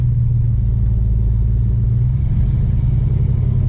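A 1966 Pontiac Grand Prix barn find, newly back on the road and running rough, burbles at idle with a steady, loud low rumble and a slight shift in pitch partway through, with no talk.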